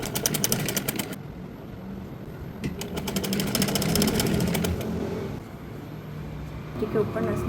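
Sewing machine stitching along the edge of a plain dress: a fast steady mechanical clatter running in stretches, close, with someone talking over it throughout.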